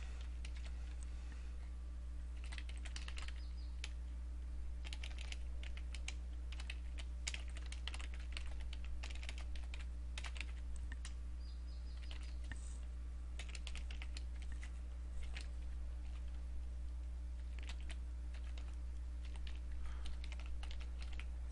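Someone types C# code on a computer keyboard, producing quick, irregular keystrokes that continue throughout, quiet and close over a low steady hum.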